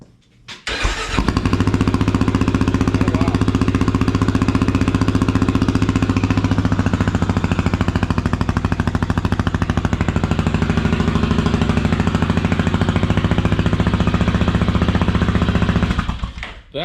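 A 2022 Kawasaki KLR 650 runs with a Leo Vince exhaust fitted with a short silencer insert, its loud, steady engine drone holding from start to finish with no talk.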